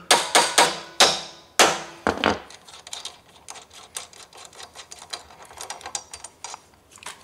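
Sharp metallic hammer strikes ring out as a press-in stud is hammered out of a power wheelchair tire, a handful of loud blows at first, then a long run of quicker, lighter taps.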